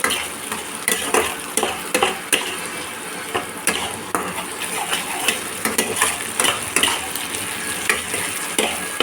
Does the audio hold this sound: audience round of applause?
no